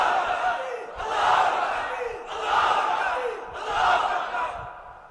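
A large crowd at an Islamic religious gathering roars back a takbir response in three swelling chants, each a loud, massed shout rising and fading in steady rhythm.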